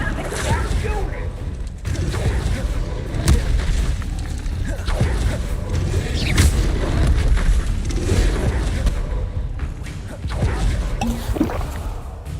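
Confringo spell blasts in Hogwarts Legacy, a run of booming impacts and crackling bursts in quick succession amid busy combat noise, loud and dense throughout.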